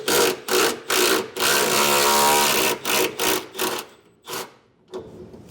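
A 13mm bolt comes off a bracket on a 2023 Ford F-250 truck frame, with a power tool firing in rapid short bursts, one longer sustained run, then a few more spaced bursts, close and loud.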